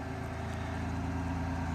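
A Ford Escape Limited engine idles steadily after a remote start, a smooth, even low rumble heard close and alone with no talking.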